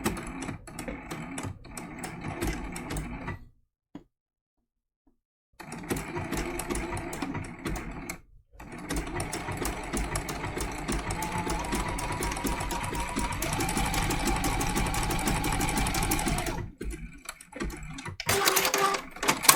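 Domestic sewing machine running a small blanket stitch to sew down raw-edge appliqué, a steady mechanical whir with rapid needle clatter in long runs, broken by two short pauses and a stop near the end.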